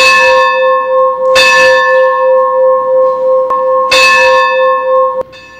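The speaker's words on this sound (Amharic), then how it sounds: "ደውል" Church bell of the Ethiopian Orthodox Tewahedo Church struck loudly in two main strokes, each followed by a long, sustained metallic hum, with a couple of lighter taps between and a sudden cutoff at the end.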